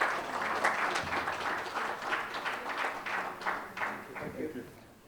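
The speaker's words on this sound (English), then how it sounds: "Huge round of applause for our panelists," Conference audience applauds panelists after a fund administration technology discussion, a moderate wash of many hands clapping that tapers off toward the end, with faint voices underneath.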